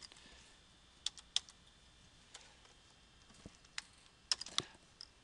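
Quiet, sparse typing on a computer keyboard, with irregular clusters of light key clicks and a few sharper taps, close by with no talking.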